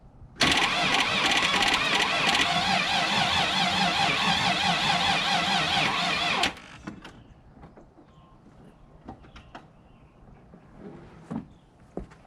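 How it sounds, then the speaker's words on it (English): Land Rover Discovery engine cranking on a jump box, a loud, steady whirring churn for about six seconds that cuts off abruptly, followed by faint clicks and quiet shuffling. "Let me go stick the key in the ignition and see if it turns over for you."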